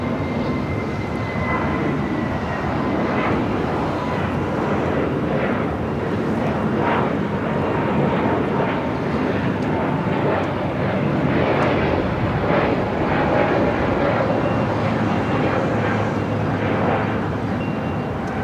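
A Boeing 777-300ER jet takes off from runway 25 right at LAX, a loud, steady engine roar that holds for the whole stretch, close and continuous with a slight swell in the middle.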